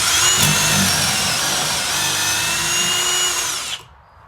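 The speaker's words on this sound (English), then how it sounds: "Now, I'll just drill my hole." A drill runs steadily for several seconds, boring a pocket hole through a Kreg 720 PRO pocket-hole jig, loud and close, with a high whine over a lower motor drone that stops abruptly near the end.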